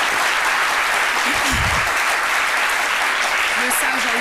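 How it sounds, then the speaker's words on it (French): A television studio audience applauds loudly, a continuous wash of clapping with a presenter's voice speaking briefly over it. "cela ne va pas nous empêcher d'applaudir très fort le sage"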